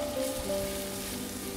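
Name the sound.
minced shallots and garlic sizzling while stir-frying in oil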